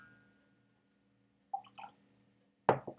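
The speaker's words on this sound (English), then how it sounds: "I'm going to add some water." Water added by spoon to Laphroaig 10 Cask Strength Islay single malt Scotch whisky: a soft splash, then a louder pour-like plop near the end, close and quiet in an otherwise still room.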